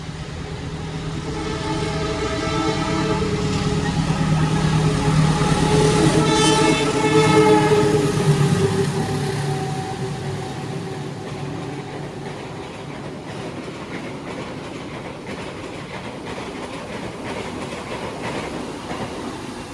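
A rail bus train, the Batara Kresna to Wonogiri, rumbles past steadily, its engine drone and rhythmic wheel noise swelling to a peak midway, then easing off into a lower continuous roll.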